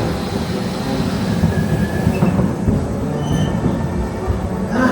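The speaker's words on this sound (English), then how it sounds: "Are we going to see the train? Oh, there it is." An amusement park train at Blackpool Pleasure Beach rolls past nearby, a steady loud rumble of wheels on track with faint squealing and no talking.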